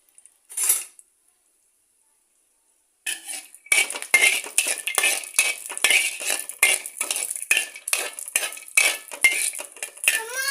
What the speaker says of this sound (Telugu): డ్రై ఫ్రూట్స్ వేసుకొని కొంచెం బ్రౌన్ కలర్ వచ్చే వరకు అయితే ఫ్రై చేసుకోవాలి